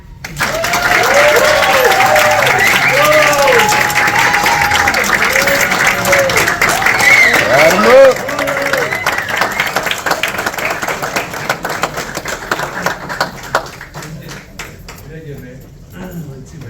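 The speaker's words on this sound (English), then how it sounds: "we love the applause, but Jen prefers cash." Loud audience applause at a business leaders' event in Dallas fills most of the span, with cheering voices and talk mixed in before the clapping thins out toward the end.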